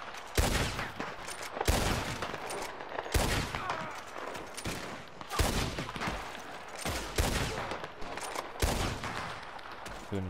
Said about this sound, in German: Schön in den Rücken geschossen.